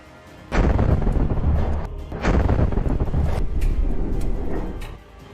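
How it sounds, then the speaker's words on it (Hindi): An explosion blasts an IDF Merkava tank in Jabalia: two heavy, booming detonations a couple of seconds apart, each followed by a long rumbling roar that fades. "जैसे ही ये टैंक बारूद वाली जगह पर आते हैं वैसे ही वहां पर एक जोरदार ब्लास्ट होता है"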